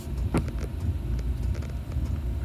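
A Chinese diesel heater in a 2000 Argo trying to fire up: a steady low rumbling drone with irregular soft ticks and puffs, close and fairly loud, with no voices.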